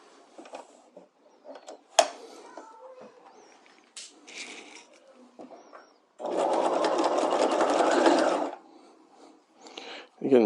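A sewing machine stitches the facing shoulder seam of a combined neckline and armhole facing in one steady run of about two seconds, surrounded by quieter fabric handling, clicks and a little talk.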